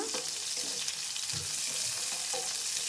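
Chopped onions sizzle and crackle steadily in hot oil for upma, a dense close frying hiss with occasional stirring scrapes and no voices.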